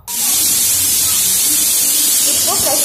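A pressure cooker cooking chicken curry releases steam in a loud, continuous hiss that bursts on abruptly and holds steady to the end, close by.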